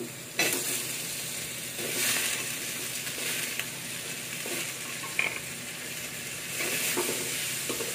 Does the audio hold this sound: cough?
no